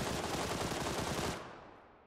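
Loud, rapid automatic gunfire in the video game PUBG, a dense close burst of shots for over a second that then cuts off into a fading tail.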